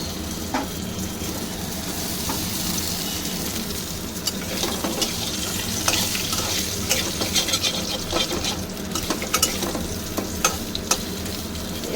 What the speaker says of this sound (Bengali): এই আলুগুলো একটু লাল করে আমি ভেজে নেব।